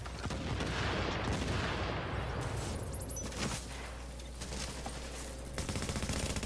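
Dense overlapping gunfire in a The Division PvP firefight, sustained automatic bursts and booms filling the whole stretch with little pause.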